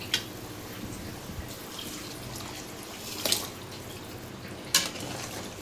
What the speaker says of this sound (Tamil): இந்த புளி தண்ணியை ஊற்றிடலாம்.